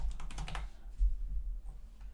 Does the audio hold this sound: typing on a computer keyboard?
yes